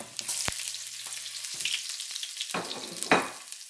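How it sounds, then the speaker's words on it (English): Ginger and garlic sizzling in a hot frying pan for shrimp and tomato with eggs, a bright crackling hiss broken by sharp clinks and scrapes of stirring. "we put 1 tablespoon of ginger and a tablespoon of garlic"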